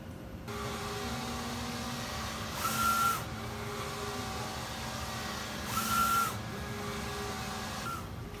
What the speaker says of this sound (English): So while it's printing this outline